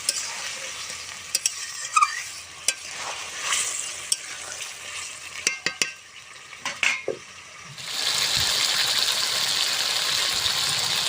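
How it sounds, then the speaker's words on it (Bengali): Fried egg and potato are stirred into spice mix sizzling in a pan, with scattered scraping and clinking of the utensil, then a louder steady frying hiss takes over for the last few seconds. "ভেজে রাখা ডিম আলু আটিটা দিয়ে দেবো ওই মশলার ভেতরে। সুন্দর করে নাড়িয়ে নেব।"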